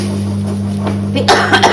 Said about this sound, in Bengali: কাশিটা কমে না আমার